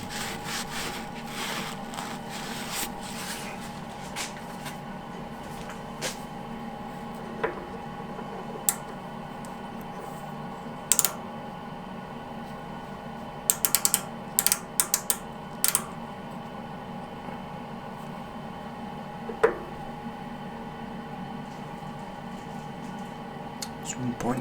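A lathe turning down a cast iron piston ring for a V-twin engine gives a steady, quiet machining hum, with a few brief clicks and taps scattered throughout.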